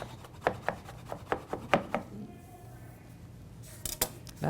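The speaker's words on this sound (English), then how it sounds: "So chop that up" A knife chops fruit salad ingredients finely on a cutting board with a steady run of crisp, close taps, then a brief scraping pause and a few more chops, with no voices.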